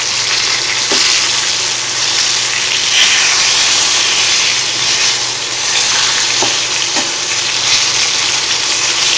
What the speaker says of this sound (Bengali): দেখুন মাছটা ভালোভাবে ফ্রাই হয়ে গেছে